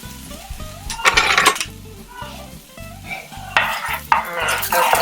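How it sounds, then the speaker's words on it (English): Onion sizzles in a little oil in a pan, a soft steady frying hiss under bursts of stirring and scraping against the pan, with a low hum beneath. "I like to put a little bit of oil on the pan and add some onion so the beans can have a little more flavor"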